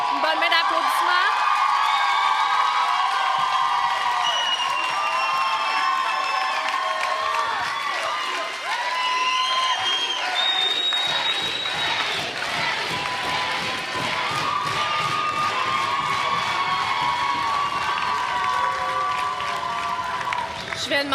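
An indoor audience gives Mélanie a long, loud round of applause, with steady clapping, cheers and whoops continuing throughout.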